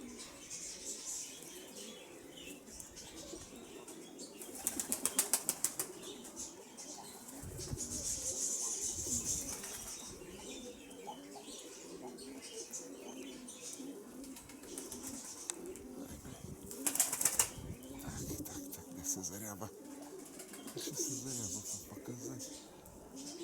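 Pigeons, a Mykolaiv breed, coo softly amid bursts of wing flapping, with a person talking quietly nearby over the birds.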